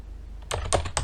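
Keys clack on a computer keyboard in a short burst of four or five close, crisp strokes after a brief quiet start, with no voices.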